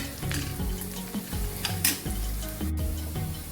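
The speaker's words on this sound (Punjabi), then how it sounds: "ਇੱਧਰ ਆਪਣਾ ਜਿਹੜਾ ਤੜਕਾ ਭੁੱਜ ਰਿਹਾ ਹੈ ਚੰਗੀ ਤਰ੍ਹਾਂ ਆਪਾਂ ਬਰਾਊਨ ਕਰ ਲੈਣਾ ਹੈ ਤੜਕੇ ਨੂੰ" Tadka spices browning in a pan for Punjabi kadhi sizzle and crackle loudly up close, with a few scraping stirs and clinks of the utensil against the pan.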